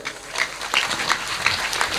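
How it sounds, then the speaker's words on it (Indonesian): Audience at a public Islamic religious gathering breaks into brief clapping, a short burst of many hands with a few sharper claps, moderately loud and alone. "Tepuk tangan untuk semuanya."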